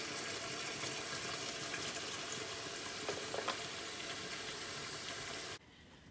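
Water pours steadily into a bin being filled for washing hand knits, a continuous rushing hiss that cuts off near the end, leaving a quieter background.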